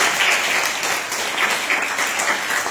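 School audience at a Navaratri celebration applauding to welcome the principal and vice principal, loud sustained clapping with slightly rhythmic swells, no talk over it.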